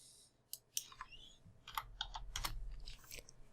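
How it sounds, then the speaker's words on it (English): Number keys tapped on a computer keyboard while editing color values in Photoshop Lab color mode; a short quick burst of close, light clicking keystrokes with no talk. "Under output, we're going to type in the number 73."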